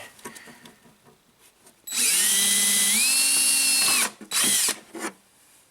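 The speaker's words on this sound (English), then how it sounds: "Let's see how BMW plastic feels when you drill right through it." A power drill whines loudly for about two seconds as it bores through a BMW tail light's plastic, its pitch rising partway, then a short second burst follows before quiet.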